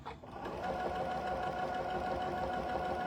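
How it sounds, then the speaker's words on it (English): A Janome Continental M6 sewing machine runs fast while stitching backwards in reverse, a steady, close mechanical whir with rapid needle chatter that holds evenly for a few seconds after a brief start. "Hold down the reverse button and the machine sews backwards."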